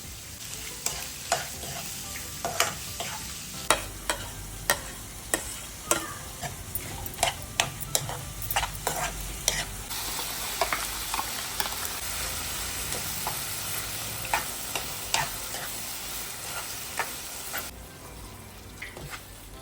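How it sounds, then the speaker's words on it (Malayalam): Ingredients for a Kerala theeyal curry sautéing in oil in a home kitchen: a constant sizzle under loud, rhythmic spatula scrapes and clicks against the pan, repeating every second or so, close up and without speech. "എല്ലാം കൂടെ എണ്ണ വയറ്റിലിട്ട് വഴറ്റിയിട്ടാണ് കേട്ടോ ഇന്നത്തെ തീയൽ"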